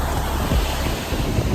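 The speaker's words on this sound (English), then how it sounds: "The waves done got us" Ocean waves roll and wash onto a beach in a steady, dense roar, with heavy wind buffeting the microphone throughout.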